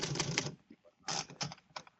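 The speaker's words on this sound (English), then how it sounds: "There was a typewriter, and I tried it." Typewriter keys clatter in quick bursts for a radio detective drama, a dense run of strikes, a pause with a few isolated taps, then more short flurries, close and crisp.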